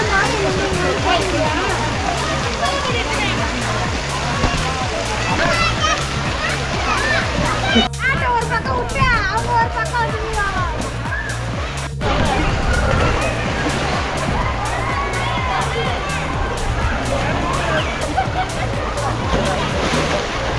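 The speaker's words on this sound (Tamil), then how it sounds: "Family swimming பூலுங்க." Children shout and splash in a busy family swimming pool with slides and a mushroom shower, water sloshing continuously nearby while someone talks over the lively din.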